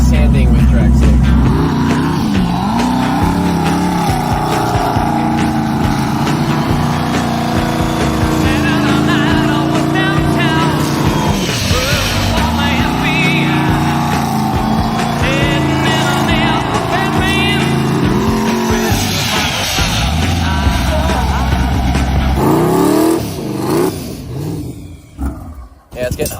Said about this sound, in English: So now I'm gonna be sanding with drag slicks.